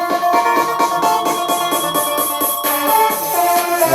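Drum build-up programmed in Fruity Loops from Roland 909 snare hits, rapid repeated snare strikes rising in pitch and intensity over electronic backing, loud and continuous.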